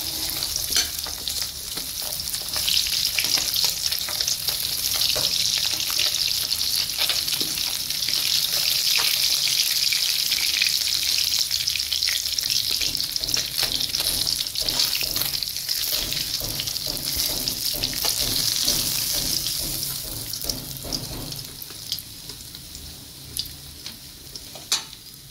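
Fish sizzling steadily in hot oil in a home kitchen pan while being prepared for a fish curry, a loud continuous frying hiss with occasional stirring scrapes that thins out near the end, no voices.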